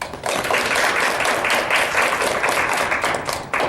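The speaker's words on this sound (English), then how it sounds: "Let's give a warm round of applause for Dr. Love" A warm round of applause from a medical school audience greeting a speaker, dense, even clapping from many hands that swells in and holds steadily throughout.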